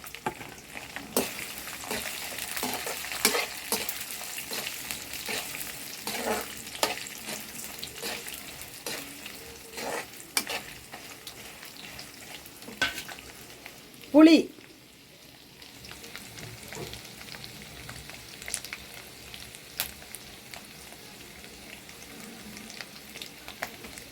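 Asafoetida and grated coconut fry in a pan, a steady quiet sizzle with scattered crackles and a brief louder scrape or clatter midway, no voices.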